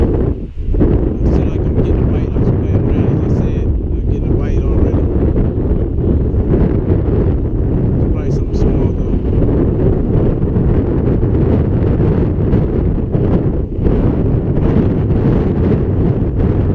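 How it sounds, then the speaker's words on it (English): Strong, steady wind roars and buffets the microphone for the whole stretch on a beach at Jekyll Island, Georgia, a dense rushing noise with faint breaking surf underneath. "Just wish it wasn't this windy"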